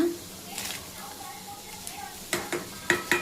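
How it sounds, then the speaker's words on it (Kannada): Field beans (avarekalu) with tomato stir-frying in a pan, a soft sizzle under a person talking, followed by several sharp close scrapes of a spoon against the pan. "ಇದರಲ್ಲಿ ಚೆನ್ನಾಗಿ ಫ್ರೈ ಮಾಡೋಣ ಈಗ ನೋಡಿ ಸ್ವಲ್ಪ ಬೆಂದಿದೆ ಕಾಳು ಟೊಮೊಟೊ ಹಾಕೋಣ"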